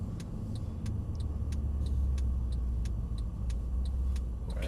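A car passes nearby on a road, its engine a steady low rumble that swells and fades, with a regular ticking pattern running alongside.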